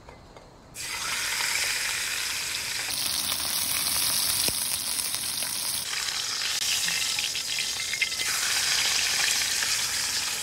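A steak sears loudly in a hot pan, with steady crackling sizzle starting abruptly after a brief quiet moment and continuing close and strong, with occasional clinks.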